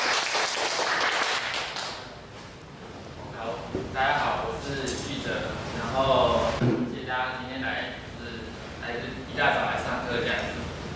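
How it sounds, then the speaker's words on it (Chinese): A lecture-hall audience claps to welcome a guest lecturer on PyTorch deep learning. The clapping is moderate and uneven, mixed with talking throughout. "我们先掌声欢迎他"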